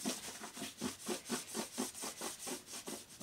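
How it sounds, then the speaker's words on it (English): Rhythmic back-and-forth scrubbing of a darkened finish off hammered metal, about a dozen even strokes roughly three per second, close and fairly soft, with no talking. "I am going to start scrubbing that off."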